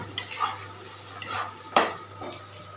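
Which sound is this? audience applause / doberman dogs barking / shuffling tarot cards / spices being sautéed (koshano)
spices being sautéed (koshano)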